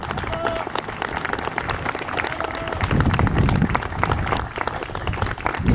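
An audience at a community event on toxic mining in Naolinco, Veracruz, applauds steadily in a moderately loud, even wash of clapping, with voices talking faintly underneath.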